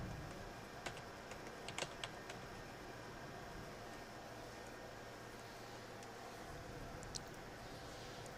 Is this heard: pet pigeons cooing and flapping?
no